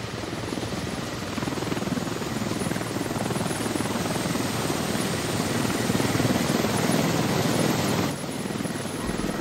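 Helicopter flying in a military video game, loud rotor thrum and turbine whine dominating continuously and close, with a player's voice briefly heard under it.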